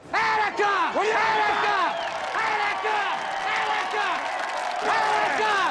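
A crowd gathered outside cheers and chants in support of a thief holding hostages, with many voices rising and falling in repeated, sung-sounding calls that stay loud and continuous throughout.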